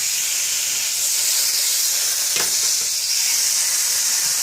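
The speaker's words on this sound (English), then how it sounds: "Listen to that thing sizzle." Loud, steady sizzling and hissing of thin pork chops frying on a hot indoor grill, continuous throughout with a brief crackle midway.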